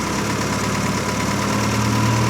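A Mini's engine idles steadily during tuning, a continuous close mechanical drone with a low rumble that thickens slightly toward the end.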